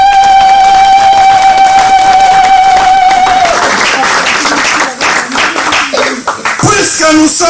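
A church congregation bursts into applause and cheering at a French-language worship service, loud and dense clapping swelling over the second half after a sustained musical tone.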